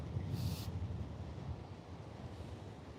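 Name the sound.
cold wind at the beach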